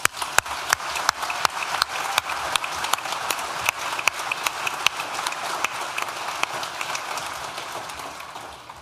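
Warm applause from a graduation ceremony audience fills a large hall, with dense, sustained clapping from many hands. It stays steady throughout and fades slightly toward the end.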